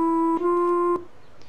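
Two sustained in-game instrument notes from ArcheAge's music composer, played loud at maximum volume, the second starting right after the first and ending about a second in, followed by quiet.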